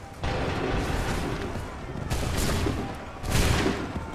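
Repeated musket volleys crack out in a battle scene from the video game Assassin's Creed III, several loud bursts of gunfire over a rumbling background din, with faint voices shouting orders.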